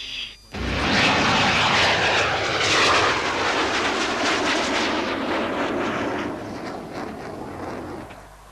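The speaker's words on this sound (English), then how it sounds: "Tornado is the only modern tactical fighter fitted with a proven automatic terrain-following system." A Tornado tactical fighter jet roars past, a loud, broad engine rush that swells quickly, holds, then slowly fades as it recedes.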